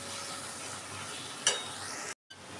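Vegetables with curry leaves stirred in a hot pan, a steady frying sizzle with a sharper scrape near the middle and a brief cut to silence before the sizzle returns.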